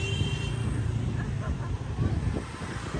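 Street traffic in District 1, Vietnam, a dense steady wash of passing vehicles and engine rumble nearby, with faint horn-like tones and indistinct voices in the background.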